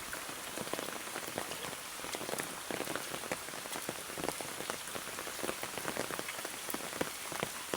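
Steady rain pours around a house whose surroundings and access path are flooded, a dense close hiss of drops pattering on water and surfaces with no voices.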